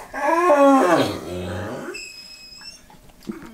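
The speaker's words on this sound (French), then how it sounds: "Bah alors Marley, t'en fais du bruit, on entend que toi" A dog whimpers and whines in drawn-out, wavering cries, close by, tapering off and followed by a few faint high tones and soft noises.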